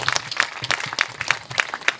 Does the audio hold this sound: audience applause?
yes